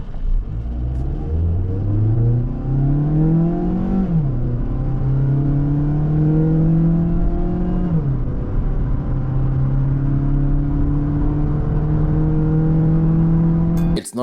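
A 2025 Mazda CX-3 Core+ accelerates from 0 to 100 km/h in sport mode, its engine and rear exhaust droning loud and close, rising in pitch through each gear, with two clear upshifts before a long, steady pull.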